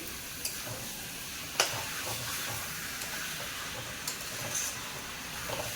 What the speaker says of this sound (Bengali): চিকেন দেওয়ার পরে ভালো করে কষিয়ে নেব মশলার সঙ্গে